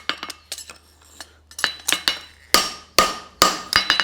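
A hammer strikes a horseshoe on an anvil while a French hind shoe is forged. The blows ring out loud, sharp and metallic in an uneven rhythm, with several closely spaced taps and then heavier ringing strikes.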